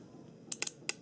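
A fuel pump relay clicking as it is powered: a few sharp, faint mechanical clicks in quick succession, close up in a quiet room.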